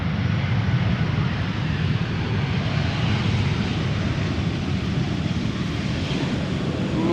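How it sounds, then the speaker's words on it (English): An Aer Lingus airliner back from Dublin comes in to land at Amsterdam Schiphol, its engines giving off a steady, broad roar that holds strong and even throughout with no voices. "In the meantime, we have Aer Lingus arriving back from Dublin"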